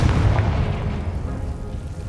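A Confringo fire spell bursts in Hogwarts Legacy, a deep, loud booming blast with rumbling low end that rolls on steadily for a couple of seconds before slowly easing off.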